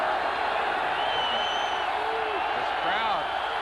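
Stadium crowd at a 1987 Raiders versus Broncos NFL football game, a steady dense roar of cheering that fills the background throughout, with a commentator's voice running over it.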